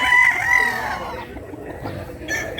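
A gamecock rooster at a breeding farm crows loudly at the start, with further clucking and fowl calls under farmyard background noise.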